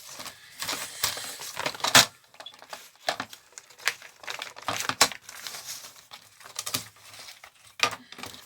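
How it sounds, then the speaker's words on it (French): A paper guillotine cutter trimming paper for a small junk-journal box, giving irregular crisp rustles, crinkles and sharp clunks of handling and cutting close by, without talk. "je vais prendre mon massicot, ça ira plus vite."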